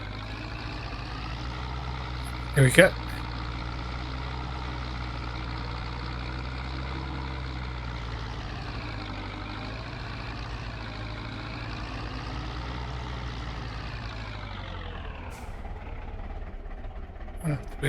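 Tractor engine in Farming Simulator 22 drones steadily and close throughout, a low idling rumble with a brief knock early on, while a voice speaks over it.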